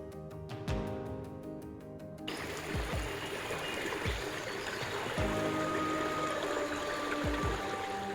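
A creek in D'aguilar National Park trickles and burbles steadily, a close, continuous wash of running water with a few soft low thuds mixed in.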